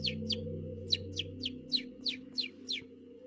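A bird call sound effect played during a French-language D&D 5e tabletop role-playing session: about nine short, bright chirps at a fairly even pace over a low, steady background hum, with no talking.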